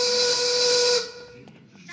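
A shrill steam whistle blows loudly for about a second as a cartoon sound effect, then cuts off into a softer hiss that fades.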